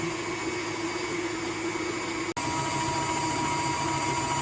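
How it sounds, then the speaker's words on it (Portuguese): An electric stand mixer works flour into dough for Hungarian slices, a steady close motor whir with a faint tone throughout and one brief dropout midway, no voices. "A cada adição de farinha, a gente vai esperando um pouquinho só para batedeira conseguir incorporar"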